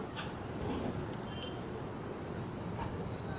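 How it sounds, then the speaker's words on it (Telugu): An electric train in Addis Ababa, Ethiopia, runs past with a steady rumbling roar, faint high squeals and clicks over the continuous wheel noise. "మొత్తం ఎలక్ట్రిక్ మీద రన్ అవుతుంది ట్రైను."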